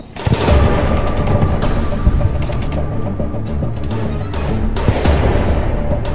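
Rapid bursts of gunfire crackle back and forth, sharp repeated shots in clusters over a constant loud background, with no talking.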